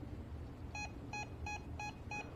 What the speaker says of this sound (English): Like it beeps like crazy.